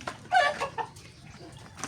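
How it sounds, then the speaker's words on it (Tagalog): A chicken in a backyard farm gives a few short clucks and throaty calls up close, with a louder burst near the start and then softer scattered notes. "Itong pinakamabait ng manok"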